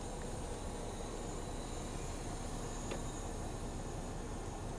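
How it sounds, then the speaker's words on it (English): A steady, broadband hiss fills the whole stretch from the climate control of a 2020 Hyundai Palisade SEL, not its fan, with a faint high whine on top and no voices. "That is the sound of the climate control,"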